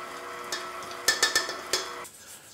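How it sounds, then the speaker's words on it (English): A spatula scrapes down the sides of a mixing bowl of applesauce cake batter, with a handful of sharp knocks and scrapes against the bowl over a steady mixer-like hum. "Okay, scraping down the sides again."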